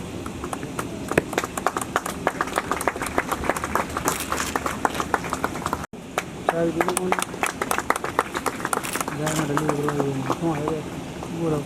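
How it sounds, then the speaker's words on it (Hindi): Crowd applause at a police recruits' passing-out parade ceremony in Etawah: dense, steady clapping that runs throughout with a brief break midway, while a voice keeps talking over it. "जोरदार तालियां बजाएं"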